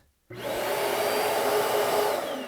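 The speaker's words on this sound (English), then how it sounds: "it also has a vacuum on the back, which is real nice" The built-in vacuum on the back of an Airthereal touchless electronic dustpan switches on and runs with a steady, loud, airy whir that holds constant throughout, with no talking.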